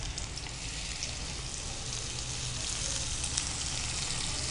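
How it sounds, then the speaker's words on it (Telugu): Dried shrimp sizzling and frying steadily in a pan of hot oil, a continuous close crackling hiss with no voices. "సో ఇది కొంచెం వేగాలి, కొంచెం గోల్డెన్ కలర్ వచ్చే వరకు వేగించుకోవాలండి"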